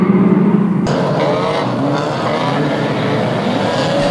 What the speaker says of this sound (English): Cars going left, right and centre.